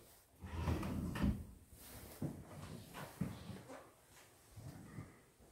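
Bathroom vanity drawers with pulls slide open and shut several times in a new home, giving soft wooden rumbles and light thuds close by, with no talking.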